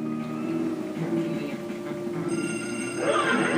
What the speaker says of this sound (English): I hear a phone ring, do you?